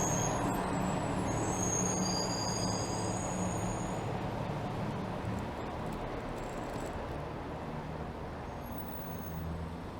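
City street traffic in midtown Toronto, including a TTC truck, gives a broad engine rumble with hissing air-brake bursts and high squeals, loud and close, with no talking.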